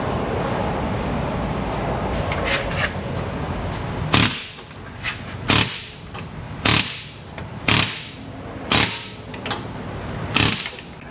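A frozen suspension arm stud on a Honda Accord being pounded with a hammer: about six sharp, loud metallic blows spaced roughly a second apart, following a stretch of rougher clanking and shop noise, with no talking.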